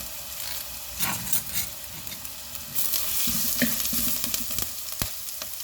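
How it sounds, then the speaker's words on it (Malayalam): Curry leaves hit hot oil for a fish head curry, with crackling and sizzling that swell partway through alongside some stirring scrapes, up close and moderately loud with no voices. "കരിയാപ്പില ഇട്ട് കൊടുക്കാം."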